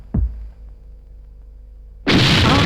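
A kitchen blast sound effect: a soft thud at the start, a low hum, then a sudden loud, roaring explosion that fills the end.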